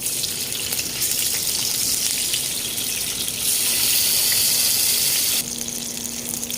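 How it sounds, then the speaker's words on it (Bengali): Eggplant and hilsa fish frying together in a pan of oil, a loud steady hiss and sizzle that swells and eases at times without stopping. "এখন আমি বেগুনগুলো ভেজে নিব।"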